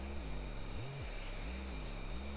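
Propeller aircraft engines drone steadily in a flight combat game, a low continuous hum with slowly rising and falling pitch, moderately loud and unbroken throughout.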